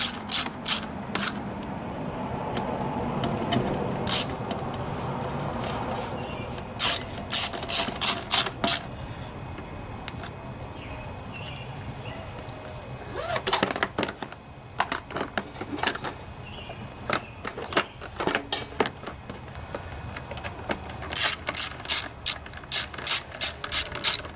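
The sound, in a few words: ratchet tightening screws on Briggs & Stratton lawnmower engine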